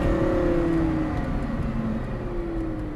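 A Lamborghini Gallardo accelerates on a driving course, a steady, close engine drone with a slowly shifting pitch and no voices.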